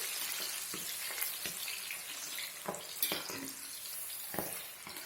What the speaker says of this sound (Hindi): अब हम मसूर की दाल भूनेंगे। तेज आंच पर इनको भूनना है इसको।